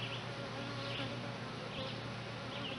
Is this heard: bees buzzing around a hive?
yes